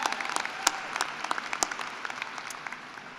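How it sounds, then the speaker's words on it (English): At a commencement celebration, the audience applauds a student group with a fairly even spread of claps. A few louder, nearer claps ring out above the moderate, continuous patter of the crowd. "let's give that group and all of you a round of applause as well"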